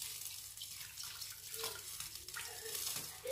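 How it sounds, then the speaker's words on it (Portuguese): Cold water runs from a tap into a cooking pot for a São Tomé-style octopus stew, a soft continuous splashing and trickle heard close, with small gurgles as the level rises. "Colocarei aqui a água. Esta água está fria, não ferveu? Coloco assim fria."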